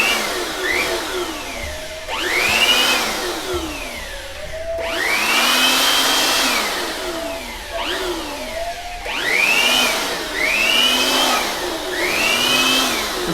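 A Jakmister 600W electric air blower runs in repeated bursts. The loud, close motor whine rises and falls in pitch with each surge, and a steady rush of air sounds underneath.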